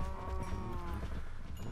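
A herd of cows penned together in Minecraft Feed the Beast lowing in overlapping, drawn-out moos, fairly quiet and steady with no talk.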